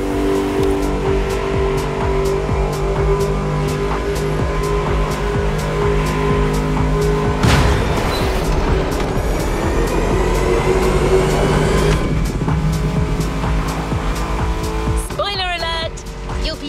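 Souped-up, heavily customized cars race in The Crew Motorfest, loud engines droning and revving throughout with a sharp surge near the middle and tire squeal toward the end, under music and a talking voice.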